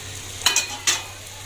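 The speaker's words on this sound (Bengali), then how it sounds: "এদিকে কড়াইয়ে তেল, শুকনো মরিচ আর 5 ফোড়ন দিয়ে দিয়েছি" Dry chillies and five-spice seeds hit hot oil in a wok with two quick, bright bursts of sizzle and a stir over a soft, steady hiss.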